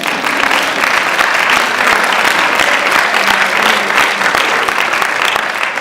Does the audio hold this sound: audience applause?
yes